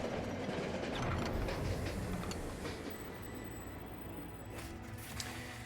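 Steady rumbling train rolling along rails in the video game Monster Train, a dense continuous roar with faint metallic wheel squeal, no voices.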